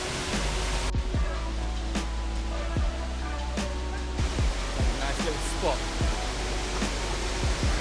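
Waterfall in the UK giving a steady, broadband rushing roar from up close, with brief voices and knocks over it.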